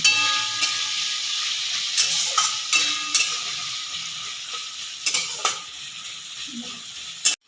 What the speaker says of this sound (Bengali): আমার পেঁয়াজটা ভাজছে